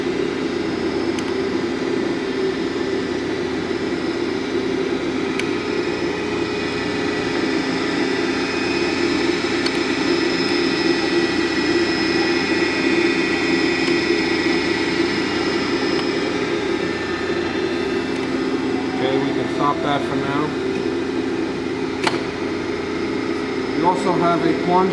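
A Brown & Sharpe universal I.D./O.D. cylindrical grinder runs its infeed with a steady, loud machine hum and whine throughout, joined by faint clicks and ticks near the end.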